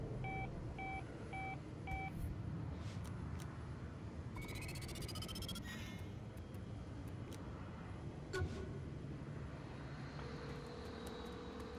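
A fixed-wing airplane in the video game Saints Row: The Third drones steadily through a low engine rumble, joined by a few short electronic beeps and a rising tonal sweep, with no voices heard.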